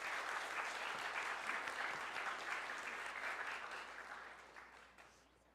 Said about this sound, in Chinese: 我们再一次来拍手，来谢谢他们啊